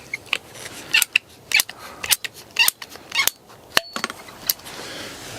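Irrigation tubing being cut while replacing a valve's pressure-regulating filter: a series of sharp, close snips in an irregular rhythm, with a faint tone near the middle and no talk.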